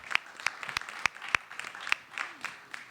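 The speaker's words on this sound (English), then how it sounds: "let's give them a round of applause." Audience applause at a jazz industry workshop panel, a modest room of listeners clapping in sharp, fairly sparse strikes at an uneven pace, moderately loud and close, with no talk over it.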